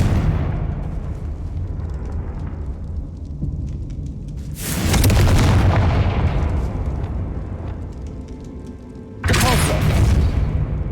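Two heavy fire-blast spell explosions from Hogwarts Legacy, each a sudden loud roaring boom that swells over a constant low rumbling bed and keeps thundering for several seconds.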